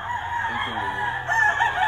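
A pure white Kelso gamecock rooster crows once, loud and near, in a drawn-out cock-a-doodle-doo that rises and holds against a faint background hum.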